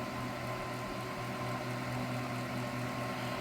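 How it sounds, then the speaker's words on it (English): A steady, constant mechanical hum and whir of a fan and a power inverter running, even and unbroken, with no voices. "I do have a fan running, and I do have an inverter running."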